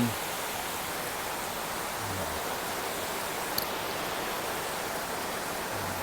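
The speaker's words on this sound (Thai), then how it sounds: "ฝนตกต้นไม้ได้รับน้ำฝน" Daytime rain falls steadily during the hot season, a soft even hiss of drops with no talk, constant and fairly faint throughout, with one brief small tap midway.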